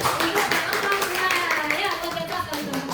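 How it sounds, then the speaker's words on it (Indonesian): Steady, dense hand clapping from a classroom audience in a teaching exam session, continuous and fairly loud for the whole stretch with faint voices mixed in. "Oke, tepuk tangan lagi."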